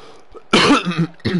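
A harsh, close cough burst followed by a couple of shorter throaty hacks, loud and alone.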